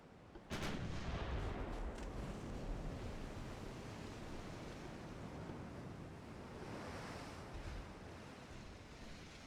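Battleship secondary guns fire in a naval strategy game set in 1905, one sharp boom followed by a long, rolling rumble like surf and wind that lingers throughout with no talking.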